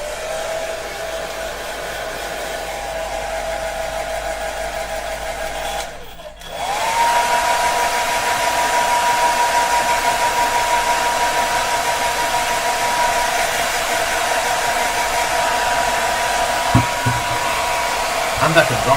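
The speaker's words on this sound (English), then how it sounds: "I do have the hair dryer to do this as well." A hair dryer blows steadily and loudly at a hobby painting desk where miniatures are built, with a short break around six seconds before the motor whine resumes and holds to the end.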